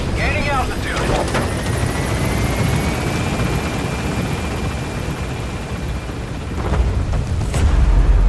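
In Metal Gear Solid V, the helicopter's heavy rotor thrum rises and swells as it climbs, loud and steady throughout, with a brief voice and a few sharp cracks near the start.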